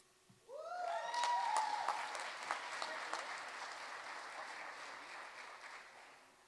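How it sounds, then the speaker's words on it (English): At a school awards ceremony, an audience breaks into applause after a moment of quiet, with some excited voices and cheers near the start, then the clapping continues steadily and fades slightly toward the end. "One more time, big round of applause for Campbell Middle School up here."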